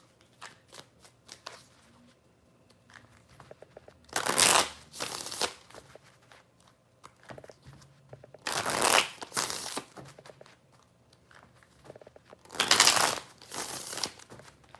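Tarot cards are shuffled up close in three separate bursts of dense riffling and crackling, each lasting a second or two, with soft handling noises in the gaps between them.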